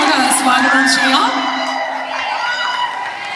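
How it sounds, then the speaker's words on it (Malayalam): A crowd at a film trailer launch event on stage whoops, yells and cheers to welcome a guest, with a steady roar of voices and rising shouts lasting throughout. "നിറഞ്ഞൊരു കൈയടിയോട് കൂടി തന്നെ നമുക്ക് സ്വാഗതം ചെയ്യാം."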